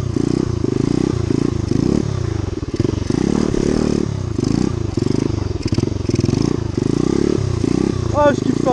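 A motorcycle engine revs hard and steadily close by while the rider lifts the front wheel, a loud continuous drone with pulsing throttle swells and faint clatter near the end.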